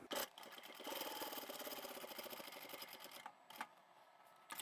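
A sewing machine stitches layers of a single piece of fabric along the top edge at the fold, its needle pattering in a steady, quiet rapid run for a few seconds before stopping, with a couple of brief mechanical clicks afterward.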